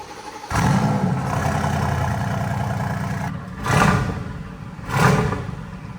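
A car engine with stock exhaust and closed exhaust valves starts and idles with a rough, throaty rumble, then revs up twice in short blips before settling back.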